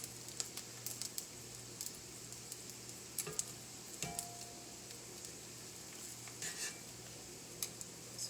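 Breadfruit frying in oil, a steady sizzle with scattered pops and crackles, plus a few soft clicks and taps as the pieces are flipped, no talking.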